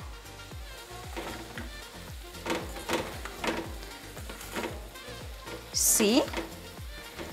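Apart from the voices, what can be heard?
onions frying in a pan for viazi mayai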